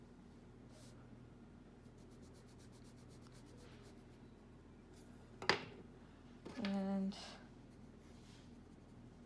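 A pencil scratches across paper in a quiet classroom drawing and labeling demonstration, giving a short dry scribbling stroke and then a longer rubbing pass, close and faint under a steady low hum, with a brief spoken word.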